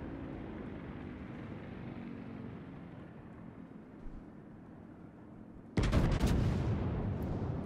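Naval gun salvo in the World of Warships video game, a sudden loud boom-laden burst after several seconds of low ambient rumble, continuing as a dense roar.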